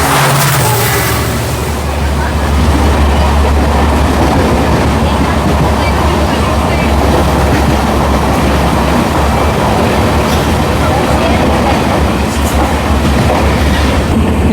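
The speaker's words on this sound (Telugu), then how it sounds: "ఇప్పుడు వెళ్ళిన బండి పంచగంగా ఎక్స్ప్రెస్." Panchaganga Express passenger train rumbling past at close range, a loud, steady roar of heavy wheels and rail noise with clattering throughout, filmed during a train journey between Yesvantpur and Mangaluru.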